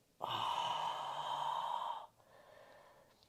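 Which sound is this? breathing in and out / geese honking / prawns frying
breathing in and out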